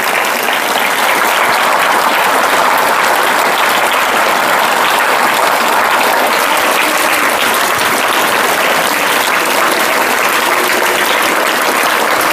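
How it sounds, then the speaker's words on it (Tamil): A large seated audience claps steadily and loudly at a Tamil motivational talk, a thick continuous wash of hands that holds at one level without pauses or voices on top. "இப்போ கைத்தட்டுங்க பார்ப்போம்."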